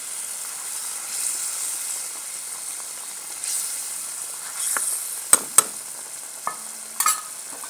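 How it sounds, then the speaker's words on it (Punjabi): Soybean pakoras frying village-style in spiced oil over a tempering of masala. A soft steady sizzle runs close by, broken by a few sharp clicks and taps of a utensil against the pan near the end. "ਆਪਾਂ ਹੁਣ ਸੋਇਆਬੀਨ ਦੇ ਪਕੌੜੇ ਪਾਉਣੇ ਆ"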